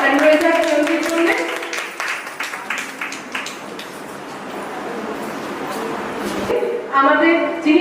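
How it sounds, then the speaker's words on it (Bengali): A crowd at a Purulia reality-show prize-giving applauds a winner with a sustained wash of clapping that lasts several seconds. An announcer's voice briefly opens and closes it. "জোরে একটা হাততালি হয়ে যায় প্রয়োগের জন্য"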